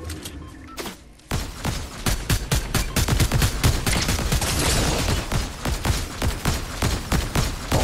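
Rapid, loud gunfire in a Fortnite match, sharp shots firing in dense bursts across most of the span after a quieter opening second, with no talking.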